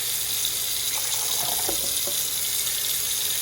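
A steady stream of tap water pours and splashes onto an iPad, a continuous hiss of running water with no voices.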